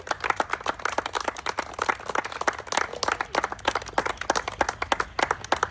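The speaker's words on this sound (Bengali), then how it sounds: "সবাই একটা জোরে তালি হবে" An audience claps loudly and steadily for contestants at a live competition game, dense overlapping hand claps forming continuous applause close by, with no speech over it.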